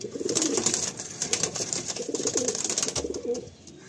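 Andhra Fulsira pigeons coo nearby in repeated throaty rolls over a faint background hiss, quiet and unaccompanied by speech.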